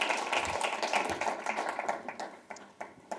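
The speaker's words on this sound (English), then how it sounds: "so if you guys could give them a round of applause," A small audience at a cannabis and hemp industry panel claps for the incoming speakers, a dense patter of hand claps at moderate level that thins out toward the end.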